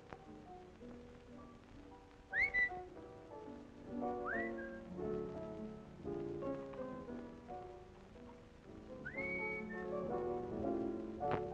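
A person whistles a few short rising notes, faint and intermittent, over soft background music and a light patter.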